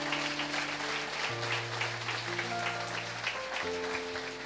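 A church congregation applauds for Jesus during a sermon on marriage, steady clapping beneath sustained keyboard chords that shift pitch, moderately loud and continuous throughout.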